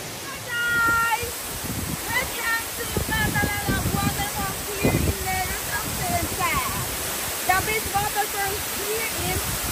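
Malatan-og Falls in Don Salvador Benedicto, Philippines, gives a constant rushing roar of falling water, with people talking and calling over it throughout.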